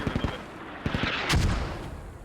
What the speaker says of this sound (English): HE rounds landing all around Russian positions here, not hitting anyone that barrage